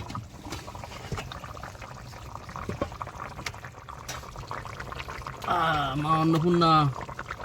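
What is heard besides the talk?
fish being added to bubbling curry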